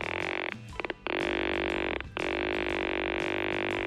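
A vintage Jetco Treasure Hawk metal detector sounds a hit outdoors: a loud, steady electronic tone, rich in overtones, holds for a long stretch, breaks off twice briefly and then resumes.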